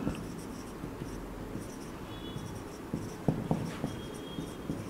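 Pen on paper as grammar rules are written out by hand during a lesson, a faint steady scratching with occasional small taps over a quiet room hum, close and without talk.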